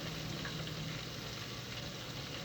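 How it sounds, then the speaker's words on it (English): Fish frying in oil in a frying pan, Caribbean-style home cooking, gives a steady, dense sizzle that runs evenly and close throughout with no pauses. "So I'm putting the fish in the frying pan and let it fry with oil."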